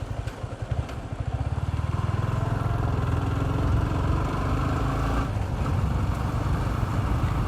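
Motorcycle engine running on a ride through empty Chennai roads, a close, steady mid-pitched drone with rhythmic pulsing that rises as the bike gets moving and holds throughout.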